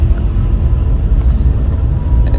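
Several buses roll past on a Malaysian road, including express and worker buses and a Rapid Penang bus, a steady heavy low engine rumble that stays loud and close for the whole stretch with no voices over it.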